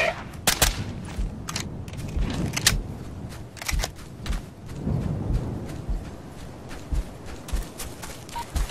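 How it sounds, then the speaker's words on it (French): Enemy gunfire in the military shooter game Operation Flashpoint: Dragon Rising during a fuel depot sabotage mission, heard as scattered sharp cracks and short bursts at varying distances over a steady ambient rumble, with no voices. "Tirs ennemis!"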